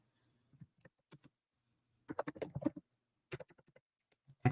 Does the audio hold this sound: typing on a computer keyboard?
yes